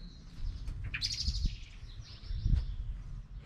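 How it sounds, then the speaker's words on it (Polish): A few quick bird chirps ring out, high and fairly close, over quiet outdoor background with soft rustling. "Chyba jakiegoś ptaka wystraszyłem."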